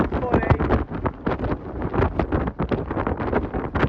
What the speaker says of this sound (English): It's so windy. It's not even funny.